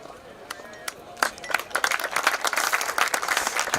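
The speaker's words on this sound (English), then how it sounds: "Big round of applause from the massive crowd we've got out today." Large crowd at a men's lacrosse match between Wales and Scotland gives a big round of applause, sparse claps at first building to dense, steady clapping from the stands, with some speech underneath.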